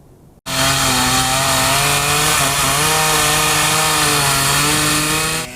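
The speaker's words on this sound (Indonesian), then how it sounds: "Dengan menggunakan gergaji mesin, tim gabungan membersihkan pohon tumbang serta memotong ranting pohon yang berada di alun-alun Karanganyar." A chainsaw cuts fallen tree branches on a town square in Karanganyar, starting abruptly and then droning loud and steady close by, its engine pitch wavering slightly as it bites into the wood.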